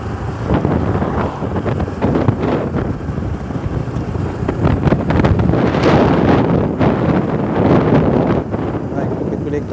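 Strong gusts roar continuously across the microphone on a motorbike ride along a road from Quetta toward Sibi in Balochistan, loud and buffeting throughout.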